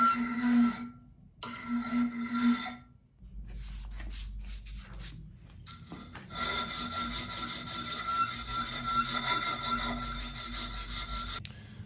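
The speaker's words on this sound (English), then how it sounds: "hard layer of fire scale on there that the files don't like to cut through" A hand file rasps across steel carrying a hard layer of fire scale while a drop point knife is shaped by hand, in two short strokes and then a long sustained stretch of harsh scraping, close and fairly loud.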